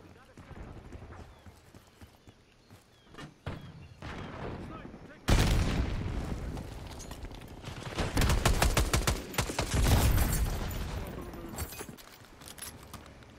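Goblin Mk2 weapon firing in Boiling Point, a loud sustained run of rapid shots with bursts and pauses over game noise, with talking mixed in at times.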